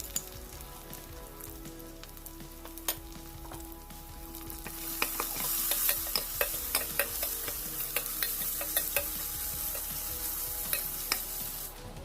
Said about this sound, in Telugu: ఉల్లిపాయ రంగు మారిన తర్వాత దానిలో అల్లం వెల్లుల్లి పేస్ట్ వేసి పచ్చిమిర్చి వేసి బాగా ఫ్రై చేసుకోవాలి